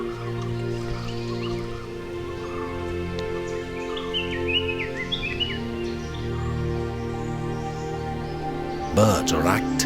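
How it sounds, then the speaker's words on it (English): Forest birds call in the morning in the Nilgiri biosphere reserve, with scattered chirps and short whistled notes over a steady droning background and a louder flurry near the end. "Birds are active in search of their breakfast."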